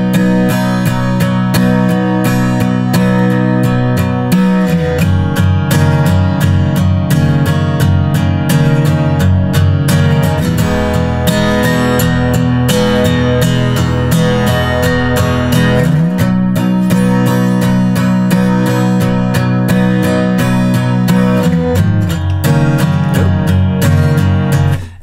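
Acoustic guitar strums the verse chords of a song in a steady, continuous rhythm, close and loud with no voice, with chord changes every few seconds.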